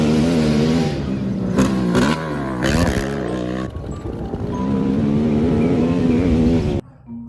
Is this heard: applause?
no